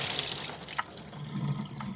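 Water is dumped from the drip tray of a MIROX 15 bar espresso machine into a sink, giving a close splashing pour with a couple of faint drips, and no one speaks.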